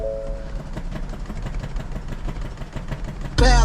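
A car with a stock exhaust cold-starts, giving a muffled, rough, rumbling idle that runs steadily before a sudden loud burst at the end.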